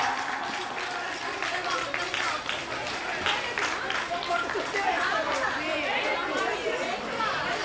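Audience at a school's annual prize distribution and 75th-year closing ceremony claps in a steady, dense wash of applause mixed with crowd chatter throughout.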